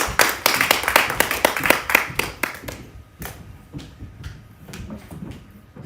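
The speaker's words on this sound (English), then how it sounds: "So with a round of applause, Josephine." Clapping at a conference session as a speaker is called up to unveil an initiative, a burst of distinct, rhythmic handclaps for about three seconds, then a few sparse, separate claps trailing off.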